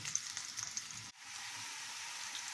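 Zucchini sautéing in a pan, a steady hissing sizzle with light crackles, close and fairly quiet, briefly dropping out mid-clip before resuming, with no talking.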